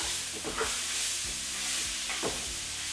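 Beef stroganoff sauce sizzles and bubbles in a pan as a spoon stirs it, with a few soft scraping strokes over a steady close frying hiss.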